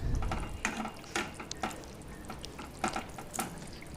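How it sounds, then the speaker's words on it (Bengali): Chicken being stirred in a pan as it cooks down in a little remaining liquid, with irregular scraping and clattering strokes over a low bubbling simmer, close and moderately loud, with no talking. "আবার আমি খুব ভালো করে মিশিয়ে নিচ্ছি"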